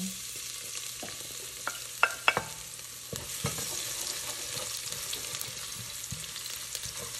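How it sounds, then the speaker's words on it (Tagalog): Garlic for chicken adobo sizzles softly in a pan, a steady quiet fry broken by a few sharp clicks of stirring near the middle. "Sa akin, pinapa-brown ko yung garlic ko para mabango siya."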